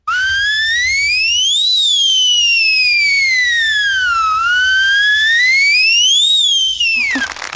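A performer on a comedy stage show vocally imitates a 108 ambulance siren with a clean, piercing wail that rises and falls twice over several seconds. It is loud and heard alone, then cuts off abruptly.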